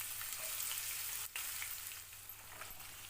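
Sliced shallots sauté in a pan of oil with star anise and mace for a chicken kulambu, giving a faint, steady, close sizzle that runs without a break.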